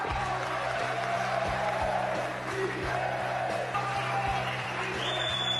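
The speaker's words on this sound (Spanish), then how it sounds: "Se pararon, aplaudieron," A large crowd in Ecuador's National Assembly applauds and shouts together, a sustained wash of clapping and raised voices in a big room.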